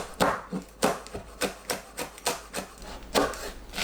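A knife finely chops cheongyang chili peppers on a cutting board, giving about eight distinct, close, crisp strokes at a brisk, slightly uneven rhythm.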